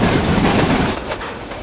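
A train runs fast on the Visakhapatnam route in Trainz Simulator, making a loud, dense rumbling roar that eases slightly toward the end, with no voice over it.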